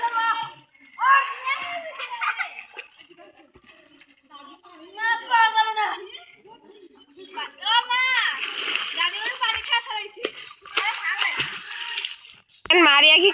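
Several people bathe in an outdoor pond, splashing the water in repeated bursts nearby. Children and adults talk and shout over the sloshing throughout.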